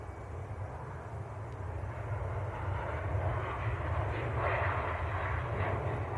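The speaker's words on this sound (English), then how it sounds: "Oh, Egypt Air taxiing out." An Egypt Air Airbus A321neo airliner taxis out at Manchester Airport, a steady low jet rumble heard from a distance that swells gradually and has no talk over it.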